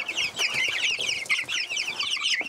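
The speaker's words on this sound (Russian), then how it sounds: "Цыпленок стал взлетать и садиться на жердочку вот на эту, где лампа." Several chickens in a coop cluck and chatter continuously, with overlapping busy calls at close range and a few soft rustles and thuds underneath.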